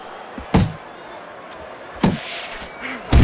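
Punches landing in the boxing video game Fight Night Champion, three sharp impacts spaced about a second and a half apart, each a crisp thwack over steady crowd-like background noise.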